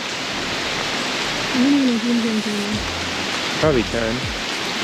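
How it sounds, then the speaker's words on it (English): Heavy pouring rain in Phnom Penh hisses steadily and loudly all around, with people talking briefly under it. "It's pouring rain."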